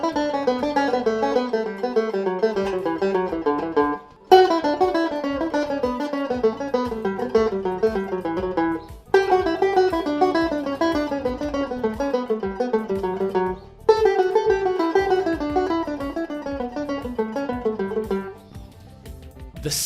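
Banjo picking a reversed scale exercise in steady descending note groups, played loud and alone in four repeated runs separated by brief pauses.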